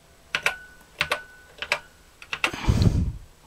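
Keys tapped on an Acorn Electron home computer keyboard as a command is entered, a handful of separate clicky keystrokes in short bursts, then a louder, fuller clatter near the end; no voices.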